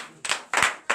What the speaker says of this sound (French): Veuillez vous lever sur vos pieds et donner de vivre acclamation au Seigneur.